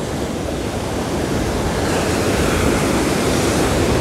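Ocean surf rolls in on Porto de Nassau beach in Pernambuco, a loud, continuous roar of breaking waves mixed with wind buffeting the microphone, with no voices.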